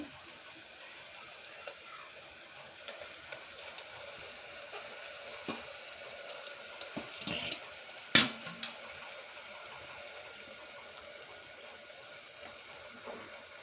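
Cleaned mutton pieces going into a hot pan for a spicy gongura mutton dish, with a steady low sizzle and frying hiss, scattered clinks and stirring noises, and one sharp clatter partway through.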